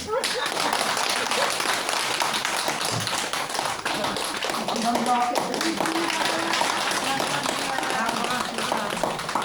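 An audience at a talk on longevity claps together in a dense, steady patter that runs the whole stretch, with voices talking beneath it.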